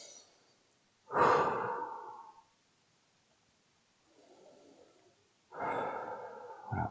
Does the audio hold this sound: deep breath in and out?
yes